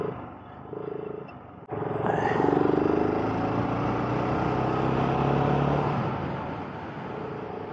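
A BSA Goldstar motorcycle rides along an A road with a steady, loud engine drone and rushing wind, rising in pitch as it accelerates after a brief quieter moment near the start.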